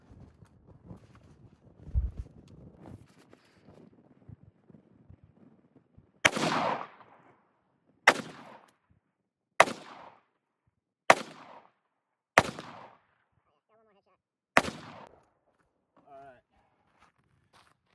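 Six loud, sharp gunshots at targets about 52 yards away ring out one by one with pauses of one to two seconds, each trailing a short echo, after quiet shuffling and handling noise.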